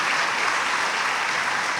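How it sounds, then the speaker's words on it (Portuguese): A church congregation at a women's service claps in a dense, steady burst of applause, loud and uniform for the whole short stretch. "Uma salva de palmas para essas mulheres"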